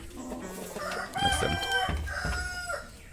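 A rooster crows once at a hill chicken farm, a clear, fairly close call rising and stretching out over a couple of seconds, with other fowl clucking faintly in the background.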